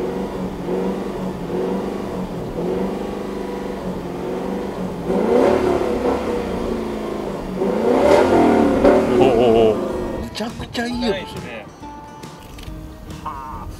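A professional baseball player's high-end luxury car has its engine revved as the accelerator is pressed. The engine swells and surges in bursts, partly masked by excited voices talking nearby.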